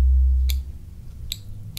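Scissors trimming fingernails during an ASMR barber roleplay: three crisp, close snips spaced apart over a low, quiet background, with no talking.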